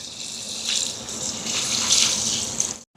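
Coconut milk, a thinner second and third pressing, pours steadily into a potato curry, giving a continuous close watery splashing for a few seconds that cuts off abruptly near the end.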